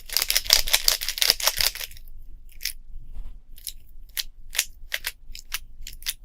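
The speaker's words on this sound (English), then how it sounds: "The cube has a very, almost a clicky noise when you turn the layers." Layers of a speed cube turn with a clicky noise, first a quick burst of rapid clicks and rattles, then sparser separate clicks, close and alone without talk.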